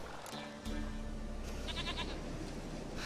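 A goat bleats in The Witcher 3 video game, a single short quavering bleat near the end over a constant ambient game background, with no talk.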